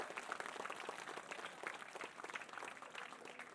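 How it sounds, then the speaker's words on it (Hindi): Applause from the audience for the guests at a school annual function, a fairly faint, continuous patter of many hands clapping with slight fluctuations throughout, no speech on top. "जोरदार अतिथियों के लिए एक बार तालियां हो जाए"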